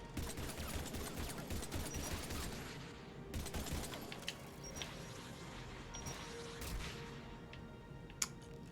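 Blaster gunfire in a Star Wars video game, sharp bursts and volleys crackling repeatedly over a dense, busy battle backdrop, with one louder crack near the end.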